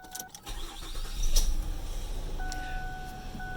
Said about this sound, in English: we'll just get the vehicle started here